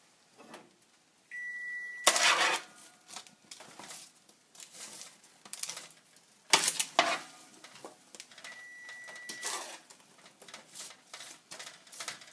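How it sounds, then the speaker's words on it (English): Vegetables stirred in a pot with no oil, making intermittent scraping and clattering with soft sizzling patter, close by; two short electronic beeps sound early and again later. "this is our third stirring of these vegetables"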